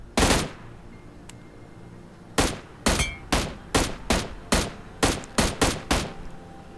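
M16 rifle fire in a battle royale video game: one loud shot, a pause, then a steady series of about ten sharp, evenly spaced single shots, close and punchy with no talking.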